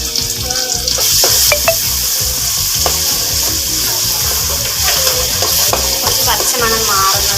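Ginger, garlic and green chili paste stirred into hot frying oil, giving a steady close sizzle with scraping stirs and occasional clinks of a spoon against the pan.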